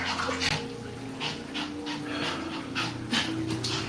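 A dog pants in quick rhythmic bursts of breath, close and fairly loud, over a low steady hum.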